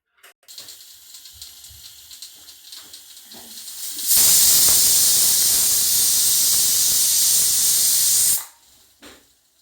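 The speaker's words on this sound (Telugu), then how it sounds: "విజిల్స్ వచ్చాయి." A pressure cooker of dalia cooked with a glass of water releases steam. After quieter kitchen noises, a loud, sustained hiss blasts for about four seconds and then cuts off abruptly.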